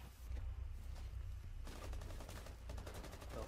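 Rapid gunfire in the video game Rainbow Six Siege, a dense burst of automatic shots close and loud over a low rumble, growing busier in the second half.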